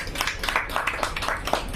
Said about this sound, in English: request all of you to please give a big applause